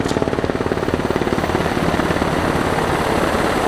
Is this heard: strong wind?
no